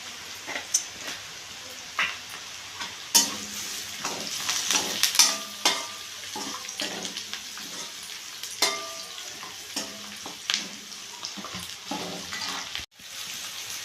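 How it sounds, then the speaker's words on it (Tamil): Onion sautéing with turmeric powder in a pan gives a steady, soft sizzle, broken by repeated scraping strokes of a spatula stirring it, close and fairly even throughout. "வெங்காயம் வதங்கிடுச்சு தக்காளி சேர்த்துப்போம்"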